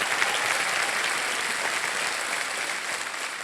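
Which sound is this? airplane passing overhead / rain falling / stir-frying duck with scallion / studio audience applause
studio audience applause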